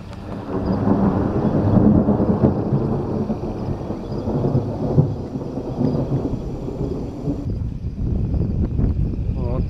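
Thunder from an electrical storm overhead, a long heavy rolling rumble that swells and fades over several seconds, loud and close, with rain not yet falling.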